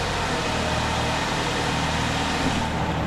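A steady, low idle from the Ecotec engine of a 2005 to 2010 Chevy Cobalt after a timing chain replacement hums evenly throughout, a constant close rumble with no voices.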